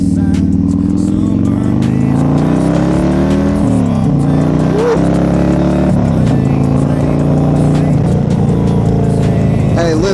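A loud engine with a performance cam revs up and down close by, with a choppy, lopey idle and throaty roar rising and falling over several seconds.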